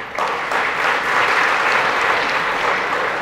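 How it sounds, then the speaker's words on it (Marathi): Steady applause from a group of students fills the room at a junior college arts club inauguration, dense continuous clapping throughout with no pauses, fairly loud and close. "म्हणजे मी तुमच्यासाठी टाळ्या वाजवते आता"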